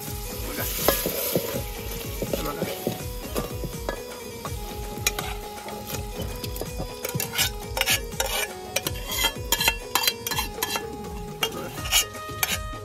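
A spoon stirs boiled mutton into masala in a pot over a wood-fired chulha, with steady scraping and stirring and a continuous sizzle. Metal clinks and sharper strokes grow busier toward the end.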